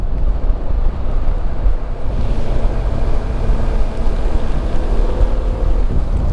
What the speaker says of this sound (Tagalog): Waterfalls sa tabi ng kalsada.